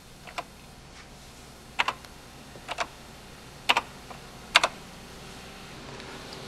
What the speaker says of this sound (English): You move the cursor to the track you want to reroute and simply type in a new output number.